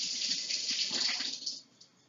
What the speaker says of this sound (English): I'm going to go ahead and wash this apple just so I know that it's clean